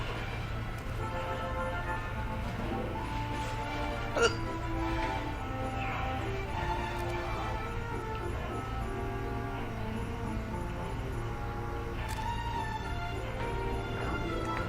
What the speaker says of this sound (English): This hiccup would not go away.